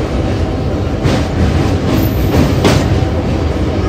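A local train running from Howrah to Digha rumbles steadily across the Kolaghat bridge, with continuous low wheel-and-carriage noise close by and a couple of brief louder surges, with no talking.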